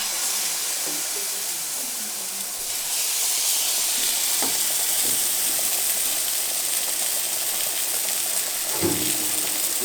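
Food fries in an oiled pan during a chicken breast and onion braise, a steady bright sizzle and hiss with occasional stirring scrapes, close up and continuous throughout.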